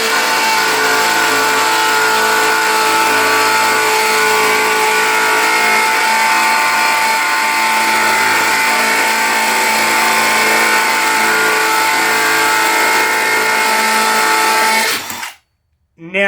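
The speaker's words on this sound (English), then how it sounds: "Hammer drill on." Two 18V cordless hammer drills, a Milwaukee Gen 3 and a Dewalt, run in hammer mode, giving a loud, steady, buzzing mechanical roar for about fifteen seconds before cutting off abruptly.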